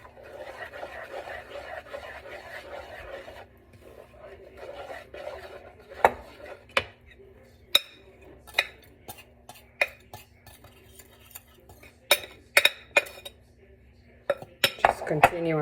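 Wooden spoon stirring a heavy homemade mostaccioli dough mixture in a bowl, giving soft scraping rubs with sharp knocks and clinks against the bowl, irregular and close, growing busier toward the end.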